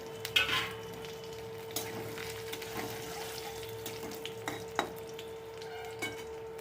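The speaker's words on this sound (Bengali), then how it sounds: "আমার রসুন বড়িটা ভাজা হয়ে গেছে।" Garlic and lentil bori frying in hot oil in a kadai, a steady low sizzle throughout with occasional stirring scrapes and clicks, close and fairly quiet.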